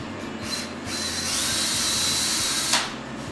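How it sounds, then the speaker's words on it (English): A power drill whirs steadily into wood, a high-pitched spinning whine that runs for a few seconds before cutting off, with no voices. "And drill a hole."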